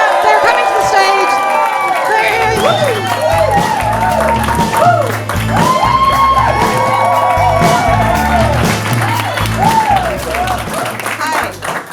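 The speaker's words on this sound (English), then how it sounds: "I want you to start a little drum roll on your laps. There you go. And turn that somehow into whooping and cheering and going crazy." An audience at a beginners' stand-up comedy show drums on their laps, then whoops, cheers and shouts loudly and continuously, with a low rumble of lap drumming under the crowd noise.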